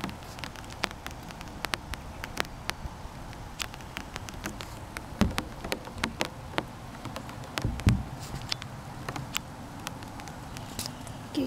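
Rain starts falling at a rail line in Holmesville, Indiana, where a Norfolk Southern intermodal train is awaited. Scattered drops patter steadily and close by throughout, with a faint low rumble underneath and no talking.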